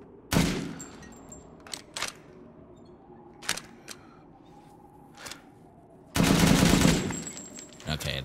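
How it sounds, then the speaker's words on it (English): Machine gun fire from the Resident Evil Village video game: a short rattling burst, then scattered single sharp reports, then a longer loud sustained burst near the end. "I'm gonna also test the machine guns on more ICAs."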